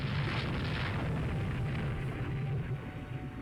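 Naval shells strike a merchant ship in Rule the Waves 2, producing a dense, rumbling roar of explosions and fire that stays loud and sustained throughout, with no talk over it.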